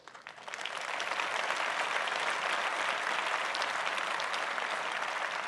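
An audience in a hall applauds at a political speech, a dense, loud, steady roll of clapping that swells within the first second and holds without a break.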